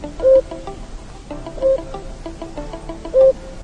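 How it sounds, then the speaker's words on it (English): A cuckoo calls three times, each a short hollow tonal note spaced about a second and a half apart, standing out loudly over a steady harmonic background. "This is a cuckoo."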